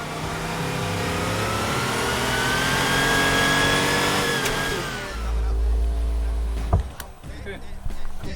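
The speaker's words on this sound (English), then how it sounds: "Porsche 930 that we recorded is the only car really that will be really sounding like the real car in the real world" A Porsche 930 sports car engine revs hard in a steady, loud sustained roar that climbs, then drops away as the throttle closes, recorded for a video game.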